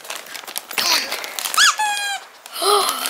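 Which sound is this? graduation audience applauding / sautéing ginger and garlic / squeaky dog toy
squeaky dog toy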